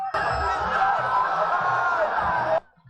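A football crowd at Boxbar Mini Stadium roars in a dense, sustained wall of cheering and shouting for over two seconds, then drops away abruptly.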